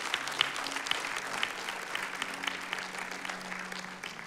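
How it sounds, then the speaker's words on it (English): Audience at a church gathering breaks into applause, a continuous crackle of many clapping hands with some sharper individual claps, steady and moderately loud with a low hum beneath. "can we give a wild applause to all those who just took that step?"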